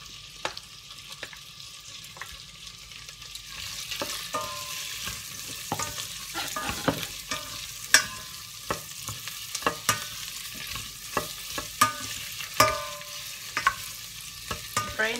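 Onion and garlic fry in olive oil in a pan for a potato and spinach soup, with a steady sizzle broken by frequent scraping stirs and clicks from a utensil, close and moderately loud throughout.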